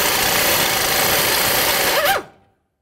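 A wrench works a nut off the rear side of a front control arm ball joint bolt on a 2007-2012 Nissan Sentra. It gives a steady, close, gritty scraping and ratcheting rasp for about two seconds, then cuts off into silence.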